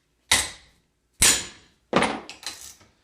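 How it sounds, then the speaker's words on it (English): A hammer smacks the side of a ratchet to loosen a base valve, landing four sharp metallic blows: two well spaced, then a quicker pair, each ringing briefly before fading, with no voices. "With a hammer, smack the side of the ratchet in the direction of rotation."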